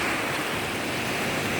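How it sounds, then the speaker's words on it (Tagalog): Rough waves on a growing sea in the West Philippine Sea off Talaodyong, a loud continuous wash of surf and wind that fills the whole stretch without a break. "Ayan o, palaki ng dagat."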